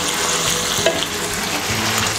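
Onion frying in a pan for a Spanish tortilla, with a loud, steady close sizzle and a brief clink of a utensil, no speech.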